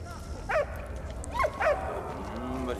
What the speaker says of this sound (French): Oh, le joli chien.